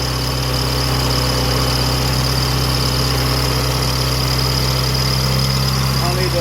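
A woodgas-powered Chevrolet Cavalier engine idles with a loud, constant, even rumble and hum that holds steady throughout.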